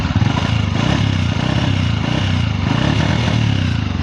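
A misfiring motorcycle engine runs roughly and loudly up close, sputtering unevenly as it starts and then dies.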